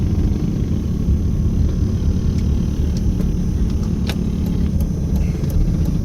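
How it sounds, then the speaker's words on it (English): Small motors of mini pocket bikes and a go-kart drone along the Las Vegas Strip amid a dense, steady traffic rumble, with faint clicks and ticks on top and no voices. "We've got some more mini bikes and a go-kart."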